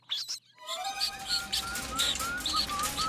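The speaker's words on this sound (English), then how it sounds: "There's a bird! There's a baby bird!" Cartoon baby bird chirping in a car, with high, bright tweets in a rising series and a few soft flutters of flapping wings, fairly close and with no talking over it.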